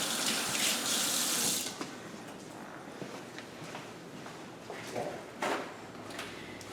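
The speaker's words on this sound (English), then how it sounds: "I'm just going to wash my hands" A kitchen tap runs at full flow as hands are washed before cooking, a loud rushing splash for under two seconds that then drops to faint trickles and small clatters, with no talk.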